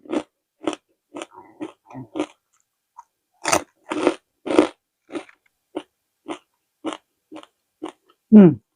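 Crispy fatty Thai pork rinds, eaten alongside spicy papaya salad, are crunched in a string of sharp, close bites spaced by short pauses, each crackling loudly with no talk.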